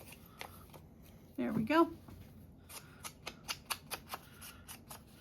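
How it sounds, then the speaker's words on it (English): Scissors snip by hand through a book page of scrap paper, a rapid series of short crisp cuts, close and fairly quiet, following a brief spoken phrase. "we're gonna have to hand cut that one"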